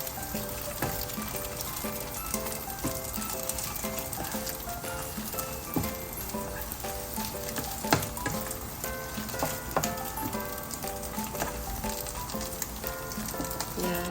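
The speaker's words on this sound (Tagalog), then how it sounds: "igigisa natin siya sa kamatis at saka sa itlog. Fry natin mabuti." Fried fish sautéed in a pan with tomato and egg, giving a dense, continuous sizzle with crackling pops and a faint high hiss throughout, no voices.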